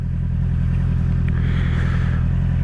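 A 2021 Honda CB650R motorcycle engine idling steadily after a restart, a loud, continuous low rumble with a faint higher whine rising briefly midway.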